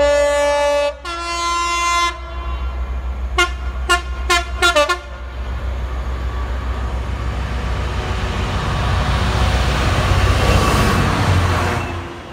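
A Freightliner freight train sounds a long horn, then a series of short toots, before its wagons roll past loudly and steadily with a continuous rumble and no voices.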